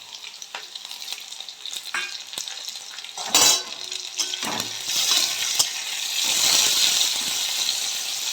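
Cabbage and potatoes for a niramish bandhakopi chechki fry in a pan, with steady sizzling, scraping stirs and occasional clinks of the spatula, loud and close throughout.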